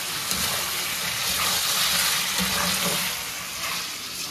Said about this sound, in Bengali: দেখো সরিষার তেল দিলাম।